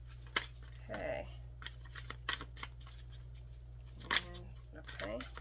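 Tarot cards being shuffled close up, with a few crisp riffling and slapping bursts over a low steady hum, interrupted by brief speech.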